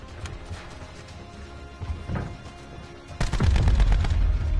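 Rampart automatic rifle fire in Call of Duty: Black Ops 4, with sparse distant shots at first, then a loud, dense burst of rapid gunfire near the end.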